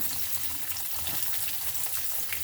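Green chilies and chopped onion frying in a pan for Udupi-style urad dal upma, a steady close sizzle and crackle of oil with light stirring throughout, no voices.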